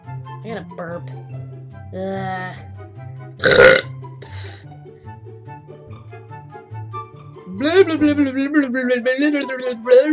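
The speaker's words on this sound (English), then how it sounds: "I gotta burp." A loud, drawn-out burp rises near the end, preceded by an earlier short belch-like burst, with a person talking and making vocal noises around it.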